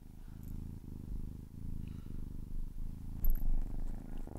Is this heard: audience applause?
no